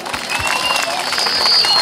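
Crowd at a summer open-air gathering applauding a guest of honour, a dense patter of many hands building steadily louder, with whistling and a voice over the clapping.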